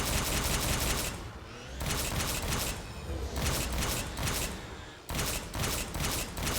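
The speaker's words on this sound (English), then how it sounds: "The Ultra Ghost has better armor and explosive shots." Ultra Ghost hovercraft in Halo 5 firing explosive shots: loud, rapid crackling bursts of gunfire in long stretches, with brief lulls between volleys and a mechanical rattle underneath.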